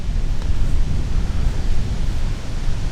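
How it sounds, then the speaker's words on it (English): Strong outdoor wind on a cold day during a New York bow hunt, roaring steadily and buffeting the microphone with a dense, low rumble throughout, with no talking. "It's pretty windy today."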